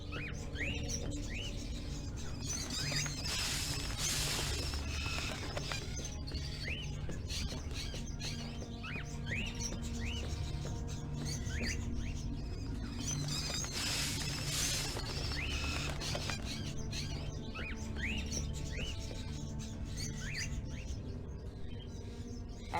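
Birds chirp and tweet in the Indigo Prophecy video game, with repeated short calls in clusters over a steady background ambience for a long stretch and no talk.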